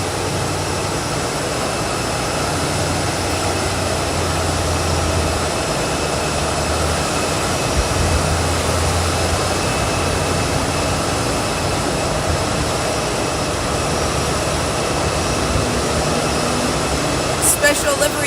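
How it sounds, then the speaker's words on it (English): Delta Airbus A320 in special California livery arriving at Boise airport, a steady broad jet engine roar holding at constant loudness throughout with faint voices underneath. "But here we go, is our Delta A320"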